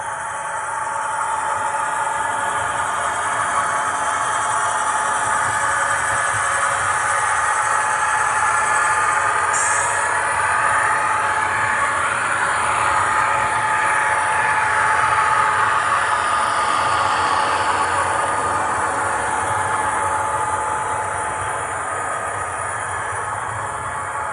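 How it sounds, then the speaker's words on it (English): A train rumbles steadily past, a loud sustained roar of engine and rolling wagons that swells slightly mid-way before easing off, with no voices. "I don't know which train is coming first"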